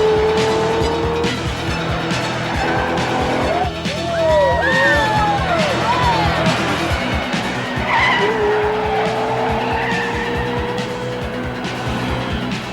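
Race cars skid with squealing tires in an animated race, engines roaring close and loud. Several sweeping tire screeches rise and fall over a constant motor drone.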